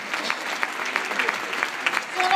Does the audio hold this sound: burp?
no